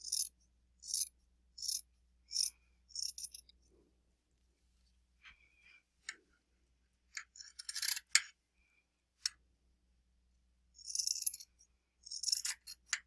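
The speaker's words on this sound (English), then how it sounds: "Just cut along your mark" Scissors snip through two layers of fleece lining for a crocheted hat in short, separate bursts of crisp cutting, close and clear against a quiet room, with no talking.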